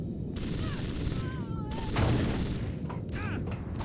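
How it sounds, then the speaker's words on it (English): Gunfire in the video game Deus Ex: Invisible War: dense bursts of shots mixed with game voices and other combat noise, continuous and fairly loud throughout. "I hear shooting"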